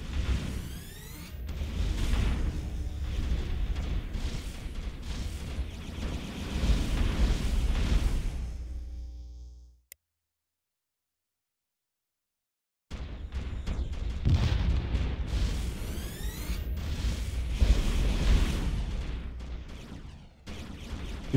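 Space battle in the strategy game Distant Worlds 2, with ships firing and blowing up: a dense, loud wash of booming explosions and weapon fire that cuts to silence for about three seconds, then resumes just as heavy.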